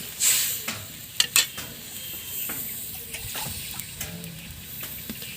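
Water poured into a hot pan of fish curry with Magur fish, bursting into sharp sizzling hiss with a few quick clatters of stirring, then settling to a steady low crackle close by, no talking.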